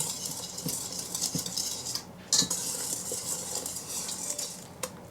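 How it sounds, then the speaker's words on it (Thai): A whisk stirs cocoa sponge cake batter in a bowl, giving rapid light metallic clicks and scraping with occasional sharper knocks against the side, close and steady throughout. "แอนจะใช้หัวตะก้อที่เราจะใช้ตีนี่แหละนะคะ คนผสมให้เข้ากัน"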